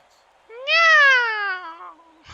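A person imitates a cat's meow: one drawn-out, rising then falling vocal meow lasting over a second, close and fairly loud, with near silence around it.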